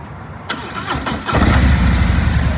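A 2019 Harley-Davidson Street Glide CVO with a Stage 3 kit starts up close by: a starter whir, then the engine catches with a loud, deep, throbbing idle that holds steady to the end.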